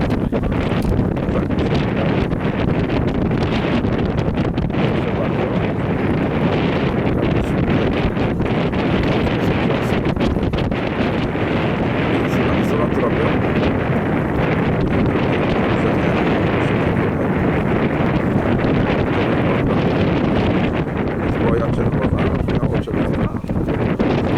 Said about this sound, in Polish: Czyli wiatr jest porządny